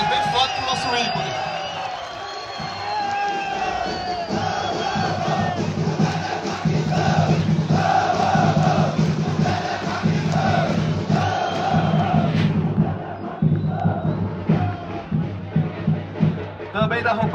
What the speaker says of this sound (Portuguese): Nosso ícone, uma salva de palmas, bem forte pro nosso ícone.